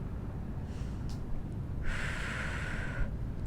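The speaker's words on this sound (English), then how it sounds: "inhale and exhale" Breathing in and out during an at-home full-body workout, a faint inhale early on, then a longer, clearer hissing exhale lasting about a second, close and fairly soft over low background noise.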